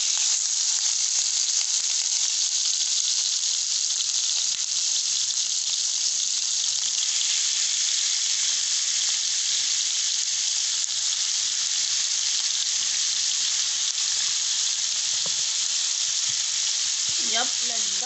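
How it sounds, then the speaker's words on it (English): Minced meat frying in hot oil for samosa filling, a loud, steady, close sizzle that fills the whole stretch, with faint stirring near the end and a voice speaking quietly underneath. "So my oil is nice and hot. I'm going to add in my minced meat."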